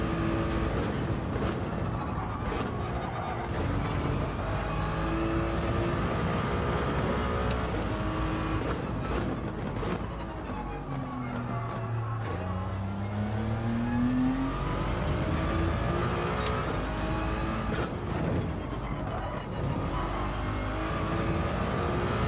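A turbocharged race car in Gran Turismo 7 drives continuously, its engine revving up and down through gear shifts with rising and falling whine, loud and steady throughout with no talking.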